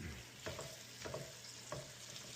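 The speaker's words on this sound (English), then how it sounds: "I've got it going on a low simmer because I don't want to singe it" Roasted vegetable frittata cooking over low heat in an OXO pan, a soft steady sizzle with a few louder scraping stirs, close and alone without talk.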